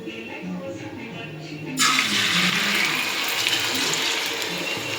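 Beaten egg batter for an egg omelette poured into hot oil in a pan, a sudden loud hiss erupting after a quiet start and holding as a steady, dense sizzle to the end.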